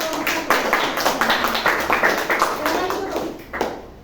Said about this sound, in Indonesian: Kita beri aplaus untuk kelompok